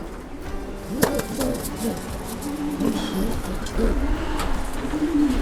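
A racing pigeon in a loft gives soft low cooing calls, several repeated coos at close range over faint background noise and rustling.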